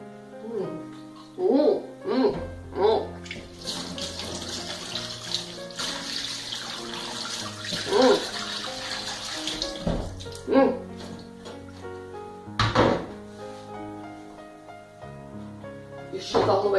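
Tap water runs from a kitchen faucet to wet an ice cream scoop while making blackberry cheesecake ice cream, a steady hissing stream lasting several seconds between bursts of scraping and clatter, with a person talking over it.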